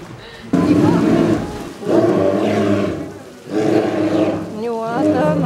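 A large bear roars and growls in loud, deep, drawn-out bursts separated by brief pauses, with people's voices faintly mixed in around it.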